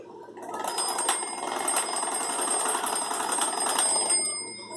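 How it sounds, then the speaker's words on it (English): An electric bell in a touch-plate circuit kit rings continuously for about four seconds, a loud close metallic rattle with a steady high ringing tone, alone without talking. "when I touch the touch plate, the bell will be ringing"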